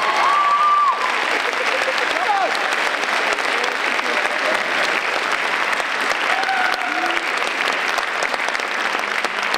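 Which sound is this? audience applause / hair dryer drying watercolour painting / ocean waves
audience applause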